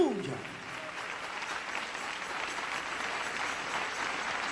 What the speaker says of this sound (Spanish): Denle ese aplauso al Señor Jesús.